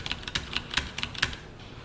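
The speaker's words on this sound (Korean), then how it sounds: "엔터 치면 되는 거고" Keys clack on a computer keyboard in a quick run of about seven crisp, close taps, each one separate and sharp, with no voice over them.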